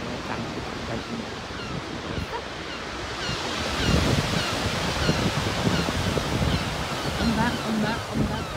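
Ocean waves wash steadily along the coast near Oamaru on New Zealand's South Island, a broad rushing surge that builds louder midway, with wind buffeting the microphone.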